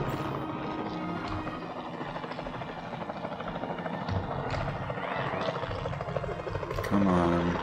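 A helicopter in a video game, its steady rotor thrum continuous throughout, with other game noises and someone talking over it.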